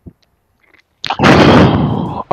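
Base rocket launcher fired in the game TF2 Classic: a sudden loud blast that trails into a sustained roaring whoosh for about a second, preceded by faint quiet clicks.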